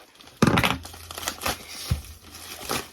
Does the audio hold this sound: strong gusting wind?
no